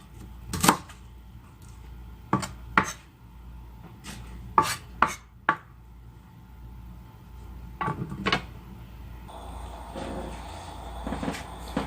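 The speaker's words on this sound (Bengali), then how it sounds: "পেঁয়াজগুলো এভাবে কুচি কুচি করে নিয়ে কাটতে হবে। কুচি কুচি করে কেটে নেব।" A knife chops onions finely on a board in sharp, separate knocks: single strikes and quick pairs spaced irregularly, close and clear over a quiet background hum.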